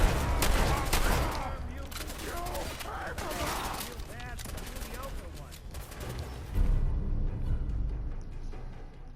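Gunfire in the video game Fallout 4 crackles in rapid bursts of overlapping shots, moderately loud and continuous under talking and game voices, with a heavier burst near the end.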